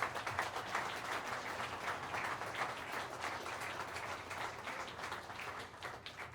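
Sustained audience applause for a community college jazz orchestra at a concert, dense steady clapping from a large crowd filling the room, loud and even throughout.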